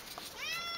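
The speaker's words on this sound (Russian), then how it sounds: "Вот, кстати, мой кот." A house cat in a village home gives one short, faint meow that rises and falls in pitch, alone against a quiet room.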